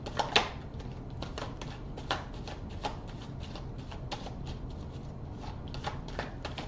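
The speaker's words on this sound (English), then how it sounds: "In the way that the cards are shuffling." Tarot cards are shuffled by hand in a steady, soft riffling patter with occasional sharper snaps, quiet and close against a low background hiss.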